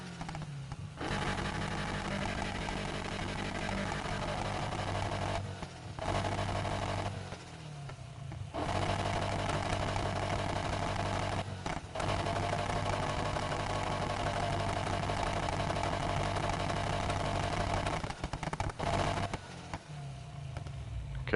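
A gray car in the Need For Speed Heat video game idles with its exhaust switched on: a steady, low, droning engine hum with slight dips, continuing alone for about twenty seconds.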